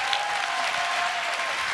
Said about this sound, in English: Let's give him a tremendous round of applause